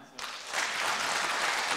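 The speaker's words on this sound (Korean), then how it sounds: "큰 박수로 마음을 표해 주시기 바랍니다" A church congregation breaks into loud, sustained applause for a retiring deaconess during a Sunday service. The clapping starts abruptly after a brief quiet moment and keeps up steadily throughout.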